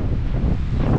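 Wind buffets the microphone on a hilltop, a continuous low rumbling roar filling the whole second without pause.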